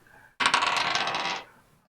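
Dice rattle and clatter across a tabletop during a tabletop role-playing game session. There is one loud continuous roll of about a second that fades as the dice settle, and no voices are heard over it.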